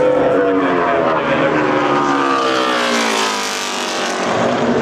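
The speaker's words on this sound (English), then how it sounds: "let's wait and see what Tony Stewart can do now as he works around the racetrack" Race truck engine at Phoenix racetrack during a 2008 Camping World Truck Series event, a loud sustained high-revving drone whose pitch sweeps and bends as it works around the track, close and continuous without talk.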